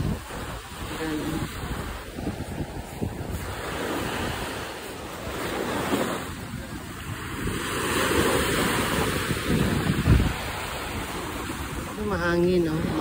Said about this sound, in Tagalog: Mahangin oh, maalon.